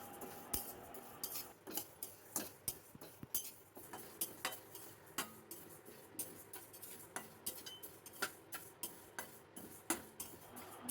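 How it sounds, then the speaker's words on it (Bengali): Moong dal dry-roasting in a pan, stirred with a metal spoon that gives a quick run of sharp scraping clicks and clinks, close and fairly quiet, with no voices. "এর জন্য ছোট এক বাটি মুগ ডাল শুকনো ভেজে নিচ্ছি"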